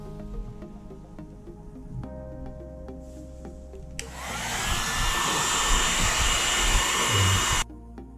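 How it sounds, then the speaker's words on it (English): A hair dryer switches on and roars steadily at close range, blowing hot air to soften hot glue holding the cover on a Disney Alice in Wonderland snow globe during a repair, then cuts off abruptly near the end. "we're gonna have to take the hair dryer and heat this up, loosen up that hot glue so we can get this cover off"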